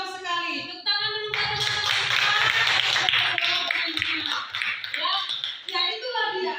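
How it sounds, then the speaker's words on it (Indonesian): A class of students claps hands together for a few seconds, a burst of brisk clapping that begins after a teacher's voice and ends as the teacher resumes speaking. "Tepuk tangan dulu"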